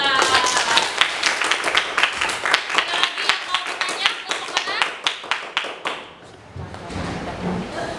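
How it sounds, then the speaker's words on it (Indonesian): A primary school class claps for two student groups after a water-filtration lesson, sharp rhythmic hand claps in unison that fade out near the end as room noise and a voice follow. "tepuk tangan untuk kelompok 4 dan kelompok 2"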